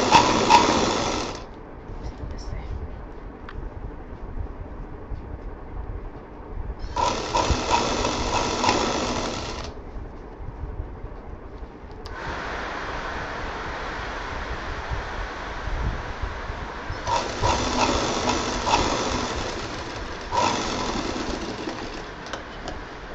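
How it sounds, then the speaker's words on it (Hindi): An electric sewing machine stitches fabric for a shiny bag in several bursts of rapid, close mechanical chatter, some short and some lasting several seconds, separated by quieter pauses. "तो थोड़ा सा कपड़ा बाहर निकालते हुए इसको सिलेंगे।"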